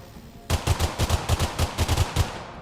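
AK rifle firing in a multiplayer driving and survival video game, a loud close burst of about fourteen rapid, slightly uneven shots that starts abruptly and ends in a short fading tail.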